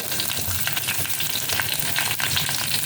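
Green chillies, shallots, radish and curry leaves fry in hot oil for a radish sambar, a dense, steady crackling sizzle heard up close throughout with small stirring bursts.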